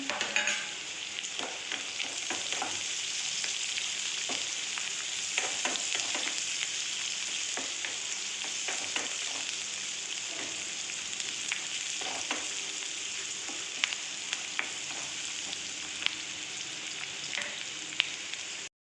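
Green chillies sizzle in hot oil in a frying pan for a sambar, a continuous close hiss broken by light clicks and scrapes of stirring throughout.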